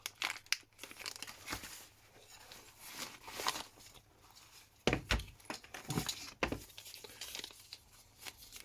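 Small resealable plastic bag holding a DJI Mic Mini main unit crinkles and rustles in bursts, close and fairly quiet, with a few sharper crackles and short pauses between handling.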